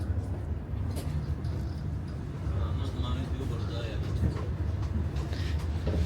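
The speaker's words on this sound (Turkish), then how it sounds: "Bu arada bu tren direkt tren olacak." Steady low rumble and rattling inside a moving train, continuous and fairly loud throughout, with faint scattered knocks.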